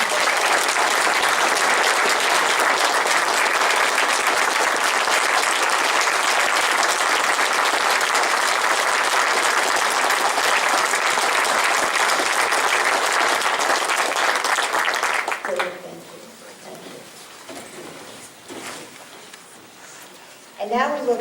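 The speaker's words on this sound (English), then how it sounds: "I think we all need to give David Hutchins a big round of applause" Sustained applause from the audience at a county association's annual business meeting, loud and steady for about fifteen seconds before it breaks off into scattered claps and room noise, with a brief burst returning at the very end.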